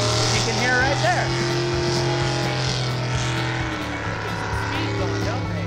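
Powerful sprint boat engines roar continuously on a racing track at Webb's Slough, their pitch rising and falling as they race, loud and constant throughout.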